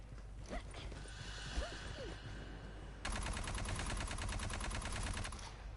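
Rapid automatic gunfire from a weapon on a small firing range in Aliens: Fireteam Elite, a steady burst running for a few seconds after a quieter stretch of mechanical clicks and handling noises.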